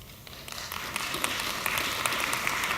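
Audience at a panel discussion breaking into applause, rising from scattered claps to a full, steady round of many hands in a hall.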